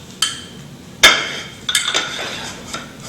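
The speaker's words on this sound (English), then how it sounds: "I'm going to drop the hammer 25 times for this first lift." Standard Proctor hammer dropped onto soil in a compaction mold during an ASTM laboratory soil compaction test, giving a few sharp, close metallic impacts spaced unevenly in a quiet room.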